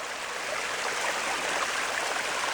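Water streaming down a rock face beside a foggy trail makes a steady, broadband rush, fairly close and continuous with no voices on top.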